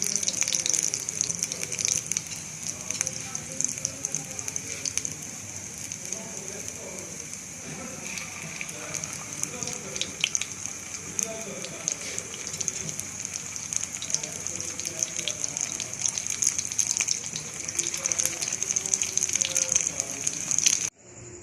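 Shami kabab patties fry in ghee on a tawa, giving a long, steady hiss of sizzling oil with constant fine crackles, close and fairly even throughout before cutting off at the end.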